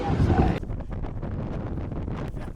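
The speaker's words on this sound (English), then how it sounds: "It's so windy outside." Wind gusts buffet the microphone outdoors at a racing school track, loudest in a strong burst at the start and then settling into a steady lower rush.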